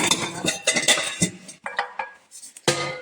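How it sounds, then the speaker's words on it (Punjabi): Glasses and dishes clink and clatter up close as they are handled and set down in a home kitchen, in quick irregular bursts with a brief pause before a final louder knock. "ਹਾਂ ਗਲਾਸੀਆਂ ਰੱਖ ਲਓ"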